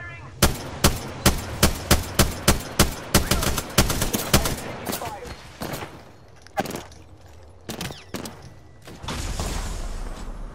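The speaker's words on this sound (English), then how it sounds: "there's a guy shooting, bro" Rapid gunfire in the Apex Legends video game: a steady, evenly spaced string of loud shots, then a few sparse single shots and a rumbling tail. The shots are close and punchy.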